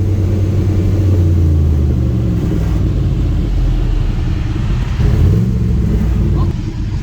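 A van's engine idles steadily after starting up, a loud low rumble with a possible misfire running throughout, while people talk over it.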